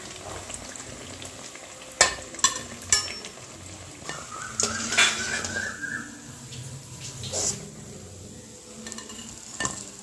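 Pathiri, a rice flatbread, fries in hot oil with a constant bubbling sizzle, broken by clinks and scrapes from a ladle or utensil against the pan. No one speaks.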